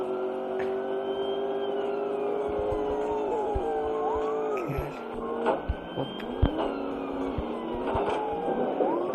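A BMW races through traffic in the mobile game Traffic Racer, its engine a steady synthetic drone that dips and climbs in pitch with gear changes, with brief clicks and scrapes over a constant background hum.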